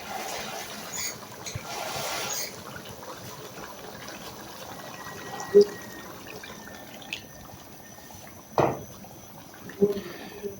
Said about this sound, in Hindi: और थोड़ा सा पानी शामिल करेंगे।